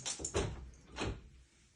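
A loosely fitted apartment door is moved and pushed shut, giving a few dull thuds and rattles in close succession, moderately loud in a small indoor space.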